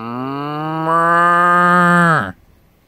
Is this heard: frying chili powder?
no